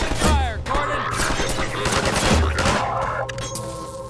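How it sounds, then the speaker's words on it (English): Rapid automatic gunfire from the video game Half-Life 2 sounds as a dense, continuous fusillade, loud and close throughout. "Open fire, Gordon!"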